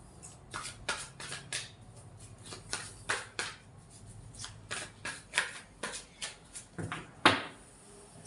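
Tarot cards are shuffled and laid out by hand, giving close, soft riffling and flicking sounds in irregular quick bursts with a few sharper taps.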